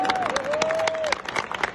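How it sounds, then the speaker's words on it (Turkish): Crowd applause and cheering at a kickboxing fight night, dense clapping mixed with crowd noise, while a tonal whistle or announcer tone runs briefly through the first second. "Büyük bir alkış alabilir miyim buraya?"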